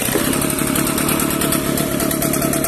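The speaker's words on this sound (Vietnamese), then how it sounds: "Bây giờ mình sẽ nổ máy lên cho bạn xem thử ha." An Echo Kioritz leaf blower with a 46 mm tube runs loud and close after being pull-started, its small engine buzzing steadily with a rapid, even pulse throughout.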